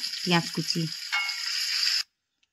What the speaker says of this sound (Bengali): এবারে ওই তেলে আমি নিয়ে নিচ্ছি গোটা গরম মশলা, এলাচ, দারুচিনি, তেজপাতা, লং এবং গোলমরিচ